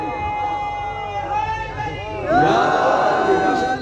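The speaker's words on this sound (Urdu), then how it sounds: "دیکھیے نعرے خوب لگا رہے ہیں مومنین" A crowd of believers at a majlis chants religious slogans, a dense swell of many voices in unison that rises louder partway through, close and energetic.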